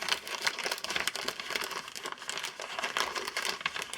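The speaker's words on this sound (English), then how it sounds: "Sorry about the crinkling." A plastic page protector holding a project crinkles and crackles continuously, close to the microphone but fairly quiet, in dense irregular bursts with no speech.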